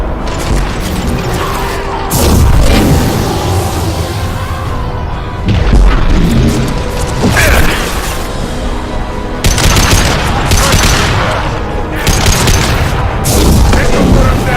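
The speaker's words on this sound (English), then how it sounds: "Firing an impact shot!" Continuous loud combat from the Mass Effect 2 video game, with impact shots among booming blasts and rapid gunfire throughout, dense and layered with game effects.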